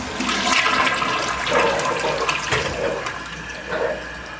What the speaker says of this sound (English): We'll give it a little bit time to recover here and we'll see if it flushes properly.